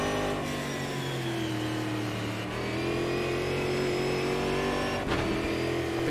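Race car on the Velocita track braking hard into turn 1, dropping to first gear and then accelerating, engine loud and close throughout with a steady high drone that shifts pitch at gear changes.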